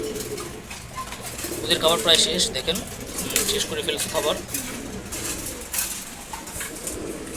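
Giribaz pigeons finishing their morning feed keep up a soft, low cooing, with a brief flutter of wings, while someone talks over them close by.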